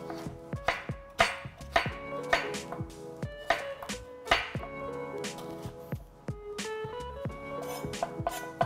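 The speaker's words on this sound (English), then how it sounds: "just gonna make some small diced pieces of cucumber" A knife dices cucumber into small pieces on a cutting board, with quick, close, crisp chops in uneven bursts and a few pauses between runs.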